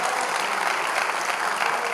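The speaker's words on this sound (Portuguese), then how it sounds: "Então vamos dar uma salva de palmas para o Senhor novamente," A church congregation applauds in a dense, steady wash of many hands clapping together, loud and continuous with no pauses.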